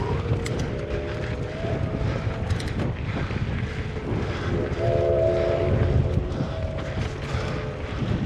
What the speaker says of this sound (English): Train whistle.